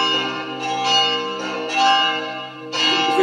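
Several church bells ring together in a combined peal built on a website, sustained overlapping tones with fresh strikes landing every second or so, loud and resonant with no voices.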